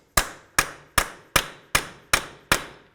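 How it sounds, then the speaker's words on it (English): Seven sharp metallic hammer-and-punch strikes on a 34mm axle nut of a 2000-2005 Buick LeSabre land at a steady, even pace, each ringing briefly before the next blow; close and loud with no talking. "Use a hammer and punch to break this free."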